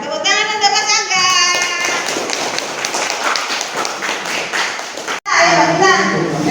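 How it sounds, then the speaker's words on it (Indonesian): Students clap for a classmate in a high school chemistry class, brief scattered applause in a classroom, mixed with voices and chatter, ending abruptly before a speaker continues. "tepuk tangan untuk Mas Angga"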